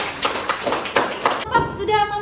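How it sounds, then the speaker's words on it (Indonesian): Classroom applause for a student group, a few sharp hand claps over roughly the first second and a half, followed by a voice speaking close by. "Tepuk tangan yang meriah sekali lagi untuk kelompok 2."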